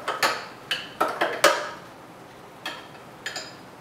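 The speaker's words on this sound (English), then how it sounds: "And add your almond milk. want to give it a stir." Spoon clinking against a mug while almond milk is stirred into a chai tea latte: a handful of sharp, light metallic taps in irregular clusters, close and fairly quiet, with no voices.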